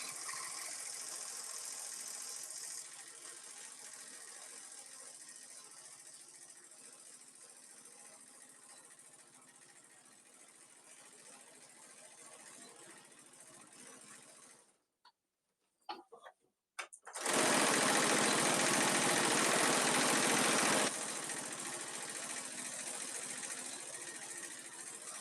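Sewing machine stitching thin shot cotton fabric for a boxy bag, a steady continuous whir running for about fifteen seconds, a few short stop-start bursts, then a louder, brighter run near the end.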